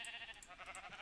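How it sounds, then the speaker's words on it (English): A Minecraft sheep bleating, a short faint wavering bleat repeated in quick pulses, heard alone. "I don't need the sheep, but I figured I would just point them out"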